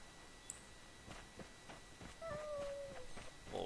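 A cat gives a short, clear meow close to a microphone, rising then falling, amid faint background clicks and hum.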